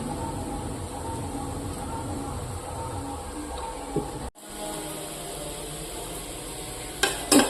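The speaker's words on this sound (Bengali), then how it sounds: "চালটা দেওয়ার পরে কিন্তু অবশ্যই একবার নাড়িয়ে দিতে হবে" Rice is stirred in a cooking pot with salt and oil while potato biryani is being prepared. A soft, continuous scraping and sizzling texture runs steadily throughout, broken by one sudden brief cut and a few light clinks near the end.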